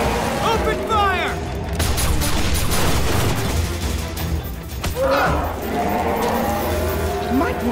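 Animated G.I. Joe Renegades action scene with a dense fusillade of cartoon gunfire and booms mixed with crashes and mechanical effects, continuous and loud, while voices shout over it.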